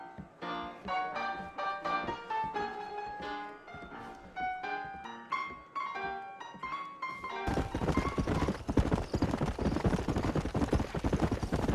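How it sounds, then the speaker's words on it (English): Video game horses trotting, hooves clip-clopping in a quick, regular rhythm over a tonal musical backdrop, then the sound turns into a dense, rough rush of noise. "I got the horses saddled up and ready out front."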